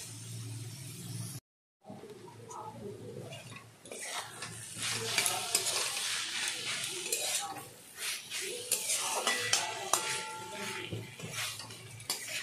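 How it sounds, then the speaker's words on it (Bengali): Banana flower cooks with spices over low heat in a pan, stirred with scraping, clattering strokes and a soft sizzle, after a brief silent gap near the start. "কিন্তু হ্যাঁ, এটাকে নাড়তে হবে, না হলে মোটাটা কিন্তু লেগে যেতে পারে।"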